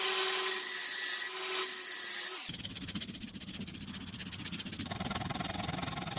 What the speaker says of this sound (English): just gonna cut a little bit off and weld that in place